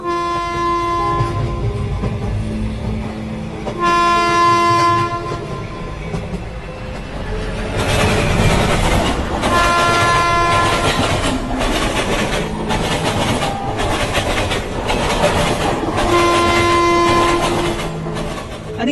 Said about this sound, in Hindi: चूहापुर जाने वाली ट्रेन पनौतीपुर स्टेशन पे आ रही है